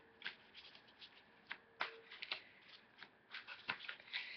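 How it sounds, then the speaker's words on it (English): Soft, irregular riffling and slapping of a big, thick tarot deck being shuffled up close, a series of quick papery flutters and taps at low volume. "I have, you know, trouble shuffling it because it's so many cards"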